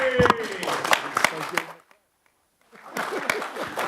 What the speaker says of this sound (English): I think we deserve to give Frank Warren a clap.